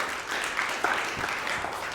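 Audience applause fills a luncheon keynote hall, a steady wash of many hands clapping at even loudness for the full two seconds, with no speech over it.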